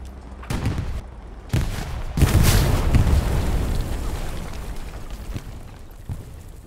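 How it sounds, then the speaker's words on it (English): A grenade blast destroying a Panzer IV tank in Hell Let Loose: a few sharp bangs lead into a big booming explosion that rumbles and slowly decays, with distant pops of battle behind it. "I think I just blew up a Panzer IV with a frag grenade."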